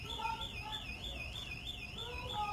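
A distant electronic alarm wails in a repeating rising-and-falling whoop, faint and steady, with a continuous cycling pattern and no speech over it.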